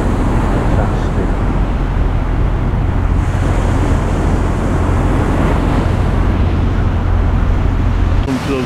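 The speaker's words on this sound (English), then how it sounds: "hopefully hear the waves a bit more" Ocean waves break on the beach at Fuengirola at sunrise, a continuous loud wash of surf mixed with gusty wind buffeting the microphone, with no voices over it.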